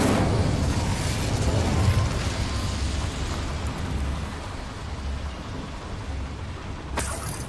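A fire spell cast in Hogwarts Legacy gives a loud, sustained roaring, crackling burst of flame that fills the whole clip and ends with a short sharp flare near the end. No one talks.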